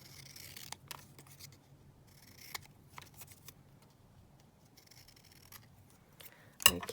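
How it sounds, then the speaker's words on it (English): Scissors snip through paper printed with dictionary definitions, faint intermittent crisp cuts and rustles in a quiet room, ending with a louder paper-handling rustle. "So I'm just going to cut one or two out."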